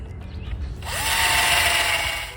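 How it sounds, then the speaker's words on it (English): A power drill whirs up to a steady, loud grinding drone as it bores partway into a large tree limb, holding the strain for over a second with no talking. "I'm going to drill part of the way through this one."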